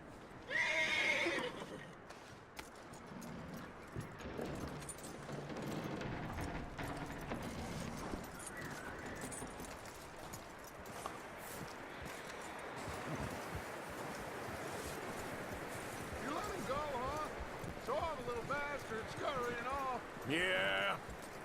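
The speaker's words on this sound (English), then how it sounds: "That looks like a decent horse." A horse in Red Dead Redemption 2 gives several loud whinnies and snorts while its hooves clop unevenly, set against wind and surf-like ambience, with voices talking at times.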